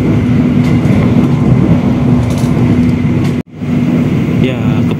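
Argo Wilis express train cruising at speed on rails, a dense continuous rumble of wheels and carriage noise heard from inside, with one brief dropout near the end before the steady roar resumes.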